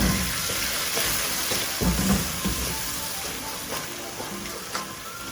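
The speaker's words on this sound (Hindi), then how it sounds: "फिर हम डालेंगे इसके अंदर सिरका।" Vinegar poured into orange chicken sauce in a hot pan, a loud sizzle that fades gradually, with faint stirring scrapes and small bursts of bubbling.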